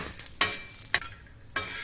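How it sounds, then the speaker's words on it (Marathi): Half a cup of peanuts roasting in a spoonful of hot peanut oil on a griddle, a soft sizzle broken by three or four sharp scraping stirs of a spatula. "त्यासाठी तव्यावर एक छोटा चमचा शेंगदाणा तेल गरम करूया त्यात अर्धा कप शेंगदाणे खमंग भाजून घेऊया"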